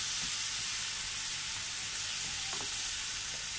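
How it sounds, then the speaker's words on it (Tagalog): Ground pork sautéing in a pan for pork giniling, a dense continuous sizzle and hiss with occasional faint stirring clicks, close and steady, no voices. "ituloy lamang po natin ang ating paggisa"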